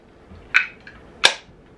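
A magnetized Wyrmwood wooden dice tray snaps shut with two sharp, close clicks about two-thirds of a second apart, against a quiet room.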